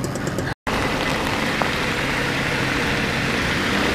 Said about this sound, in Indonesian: ini udah sampai Bogor kota, tapi hujannya malah makin gede lagi